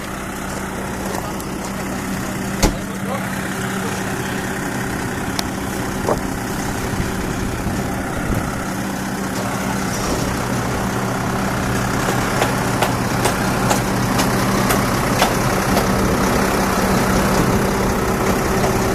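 Concrete truck idling at a residential foundation pour site for poured walls, a steady low diesel rumble that holds throughout, moderately close, with no talking.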